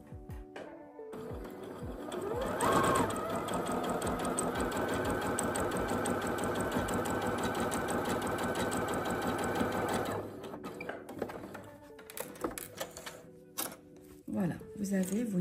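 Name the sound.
sewing machine stitching a second gathering line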